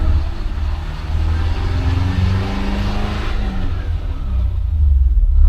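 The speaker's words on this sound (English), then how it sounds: "They run these engines right." A 1955 car's engine revs loud and close with a deep, steady rumble, rising and falling slightly and swelling louder toward the end.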